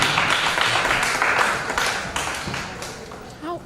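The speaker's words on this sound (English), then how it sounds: "A round of applause to them." Conference audience applause for a panel, a dense wash of clapping that gradually fades, ending with a short spoken voice.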